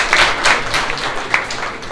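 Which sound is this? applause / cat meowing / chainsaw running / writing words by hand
applause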